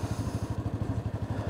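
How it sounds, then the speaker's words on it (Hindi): Motorcycle engine running on a winding mountain road near Kasauli, a close, loud, steady rhythmic thumping pulse throughout with no talk. "ऐसे रास्ते पे बाइक चलाने में अलग ही मज़ा आ रहा है"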